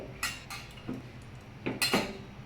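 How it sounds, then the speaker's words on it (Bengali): Metal lid fitted onto a pressure cooker, with faint light clinks and taps in a few short separate bursts, quiet and close, with no one talking. "দেখুন, প্রেসার কুকারে ঢাকনা দিয়ে দিয়েছি।"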